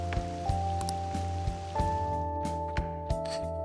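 Steady rain patters down in Persona 5 Royal at dusk, a constant wash of drops beneath looping game music with soft rhythmic beats and sustained tones.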